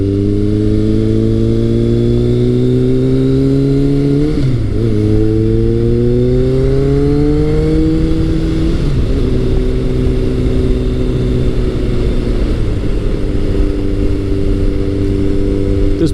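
A Kawasaki ZRX1100 motorcycle fitted with a Two Brothers slip-on exhaust pulls hard through the gears, a loud, close engine note rising in pitch, dropping at each shift, then climbing again.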